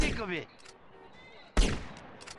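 Gunfire in the video game GTA San Andreas: a burst of sharp game shots at the start and another loud burst near the end, with a quieter stretch between and someone talking over it.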